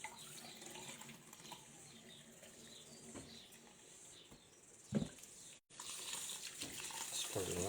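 Rice is rinsed in water at a kitchen sink, with soft, steady sloshing and tap-like running water, faint and close, with a few louder splashes near the end.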